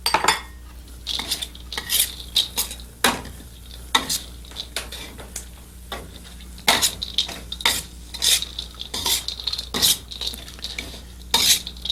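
Nuts, raisins and coconut heating in ghee in a pan, with a constant sizzle broken by frequent scraping and clattering of a utensil being stirred through the pan.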